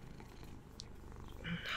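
A pet cat purrs steadily and close by, a continuous low rumbling hum in a quiet indoor room, with a faint rustle near the end.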